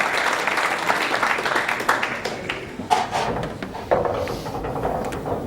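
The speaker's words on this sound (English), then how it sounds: "Crowd are going wild." A snooker crowd bursts into applause and cheers after a black ball is potted in a men's final, with loud, dense clapping and a few sharp peaks throughout.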